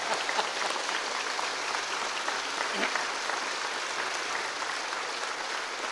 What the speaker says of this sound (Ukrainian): А ну, оплесками, так, щоб було на сихів чути.